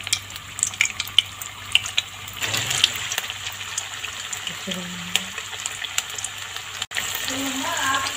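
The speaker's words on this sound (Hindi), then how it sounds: "इसको हाई फ्लेम पर ही फ्राई करेंगे" Fish frying in oil over a high flame, with a steady bubbling sizzle that swells and then continues under intermittent speech, close and fairly loud.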